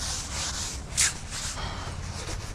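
Grit is scrubbed off the back of a surfboard with soap and water, a close, soft rubbing swish in repeated strokes, with one brief brighter scrape partway through.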